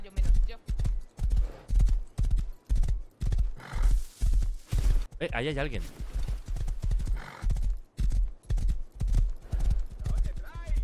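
Clip-clop of horse hooves in a video game, a steady rhythmic trot close by that carries on throughout, with a neigh partway through and a person talking over it.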